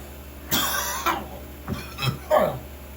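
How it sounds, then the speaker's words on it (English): Several harsh coughs from a person nearby, spaced unevenly over a few seconds, with a faint steady hum underneath. "But I'm starting to cough"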